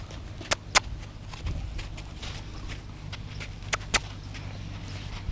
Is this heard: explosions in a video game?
no